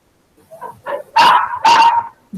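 A dog barks at home, two soft yips followed by two loud, close barks with a growling edge, with no one talking.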